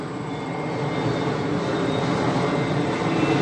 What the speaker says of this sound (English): There's a 767 about to go overhead.